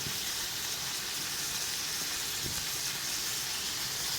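Garam masala, chilli powder, coriander powder and turmeric frying in a pan for a Tibetan-style potato stir-fry, giving a steady, even sizzling hiss throughout with no talk.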